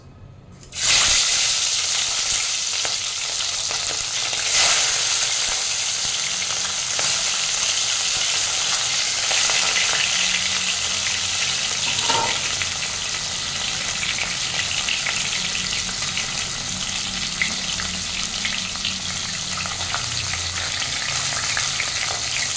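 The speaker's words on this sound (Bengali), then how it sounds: "তেলটা ভালো মতো গরম হয়ে গেছে, আমি একে একে মাথাগুলো ছেড়ে দিচ্ছি।" Fish heads drop one by one into hot oil, which crackles and sizzles loudly and steadily after an abrupt start, with no voices.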